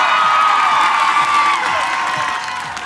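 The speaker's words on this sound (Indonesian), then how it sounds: "Mana tepuk tangannya warganya" A live television talent-show audience cheers and shouts loudly with applause, a dense roar of voices that holds steady, then eases slightly toward the end.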